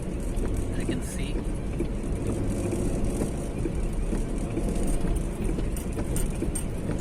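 A car drives along a misty road near Hampi, a dense steady engine and road rumble heard from inside, loud and unbroken, with faint rattles.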